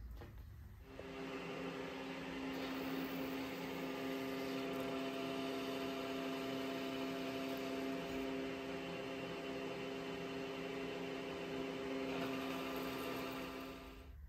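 A metal lathe turns a shaft while its outer diameter is cut down. A steady motor hum with a tonal whine is heard throughout, fairly faint and even.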